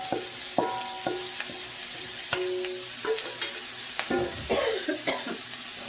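Mushrooms, celery and onions dropped into sausage frying in a pan, a steady sizzle broken by clinks and scrapes of a utensil against the pan, close and alone with no voices.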